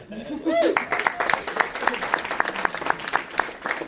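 An audience at a storytelling show applauds with rapid scattered claps, while a voice speaks briefly at the start and other speech runs underneath.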